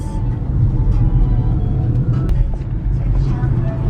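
Steady low rumble of a car driving on a road in Oahu, Hawaii, with constant road and engine noise close up throughout.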